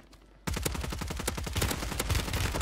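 Rapid sniper rifle gunshots from a multiplayer shooter video game crack out in a dense burst after a brief quiet start, loud and close with a steady rhythmic volley continuing to the end.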